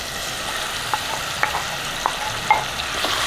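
Mango pickle ingredients, cut mango pieces in oil, being stirred in a hot pan, with a steady sizzle broken by several sharp clinks of the spoon against the metal.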